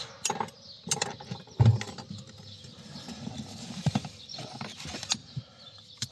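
A car battery terminal clamp on a Mercedes is handled, producing a series of irregular metallic clicks, clacks and scrapes, close up and fairly quiet.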